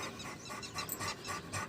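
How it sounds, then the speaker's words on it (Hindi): A dog pants in quick, rhythmic breaths close by, with faint whimpery huffs in a short outdoor burst; no clear bark stands out. "किसको भौंक रहे हो?"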